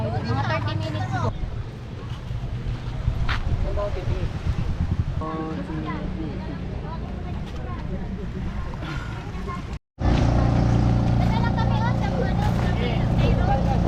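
A boat engine drones over open water off Dingalan, Aurora, with wind noise, while people talk nearby; the motor grows louder and steadier near the end.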